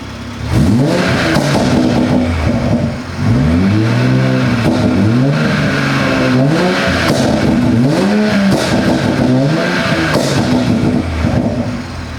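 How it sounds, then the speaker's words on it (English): Car engine with the stock exhaust box and valves closed, revved repeatedly in rising and falling sweeps, loud and close with a steady idle between revs. "give you a rev with the car, valves closed, to try and help you hear what the stock box sounds like."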